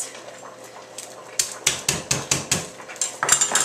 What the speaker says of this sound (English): Just a couple of cloves. I'm going to mince them up.